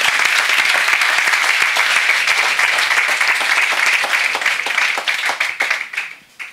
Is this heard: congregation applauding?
yes